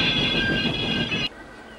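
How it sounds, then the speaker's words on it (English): An animated steam train sets off with a sustained high tonal squeal and rumbling rail noise that cuts off abruptly after about a second, leaving a faint low hum. "The guard blew his whistle, and Thomas set off."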